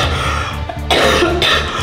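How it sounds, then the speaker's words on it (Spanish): A person coughs harshly a few times in quick succession, close and loud, over a constant low background hum with no talking. "de repente empezó a toser y a escupir"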